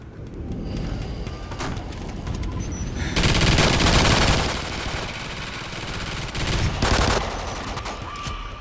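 Sustained automatic turret fire in Call of Duty Ghosts Extinction mode, a dense rattling fusillade that swells louder in bursts around the middle and again near the end, with no talking over it.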